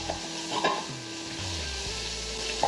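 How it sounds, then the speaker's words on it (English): Sliced onions sautéing in an Instant Pot, a continuous soft sizzle with a steady background hum and a couple of light stirring knocks, no voices. "We'll just stir those around."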